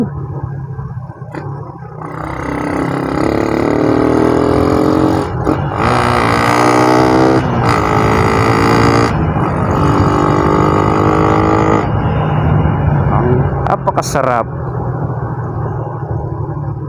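A carbureted Suzuki Raider 150 motorcycle engine runs steadily up close, its throaty hum rising and falling as it revs, then settling back to idle.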